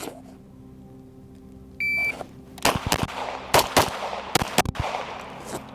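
A shot timer beeps once, then a Sig P320 fitted with a Flux Raider pistol-caliber carbine conversion fires a quick string of about seven loud, sharp shots at an outdoor range.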